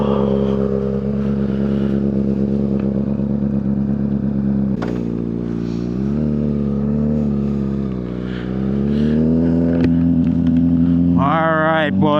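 A Honda CBR600RR motorcycle rides off with a loud engine whose pitch rises and falls through gear changes, near and continuous, while someone talks over it.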